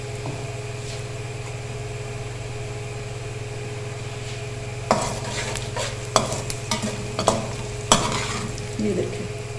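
Onions and rice frying with salt in a pot over a steady low hum and constant sizzle, with sharper clinks and scrapes of stirring arriving in bursts in the later half.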